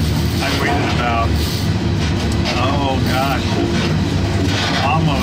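Steady, loud rumble and rattle from inside a moving freight train between Portage and Chicago, with continuous wheel and car noise and faint squeals, while a person speaks over it.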